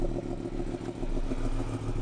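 A 2020 Yamaha MT-10 motorcycle idles up close, a low, steady engine rumble with a faint mechanical clatter and no pauses.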